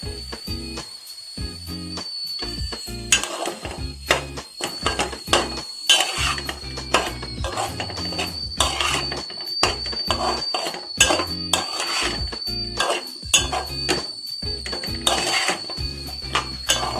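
Drumstick pieces tumble into a cooking pot already seasoned with chilli powder and are stirred, giving repeated clattering knocks of spoon against pot through the whole stretch, with a steady high hiss running underneath.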